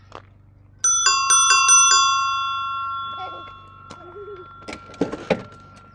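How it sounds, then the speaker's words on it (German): A cargo bike's bell rings rapidly several times, close and loud, followed by faint clatter and a brief voice. "Wir wollen die Klingel hören, die Kinder."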